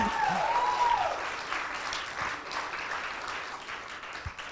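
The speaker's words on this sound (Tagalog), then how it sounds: "O, yung mga naniniwala, pumalakpak naman kayo na malakas dyan." A crowd at a book launch bursts into sustained applause: dense, steady clapping from many hands that holds at an even level throughout, with no voices over it.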